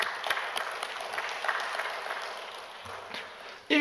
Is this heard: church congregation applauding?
yes